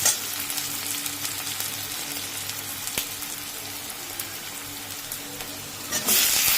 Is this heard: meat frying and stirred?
yes